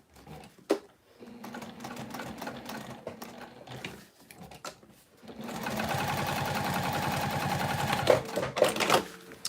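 A sewing machine stitches a bowler bag in a steady, loud run during the latter half, after quieter handling noises and brief talk at the start.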